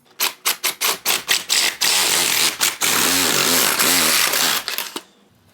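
A power saw fitted with a metal-cutting blade, expected to hit nails, bites into a wooden sill plate in a coach shop, opening with several short revving bursts and then settling into a loud, steady cutting whine that stops abruptly.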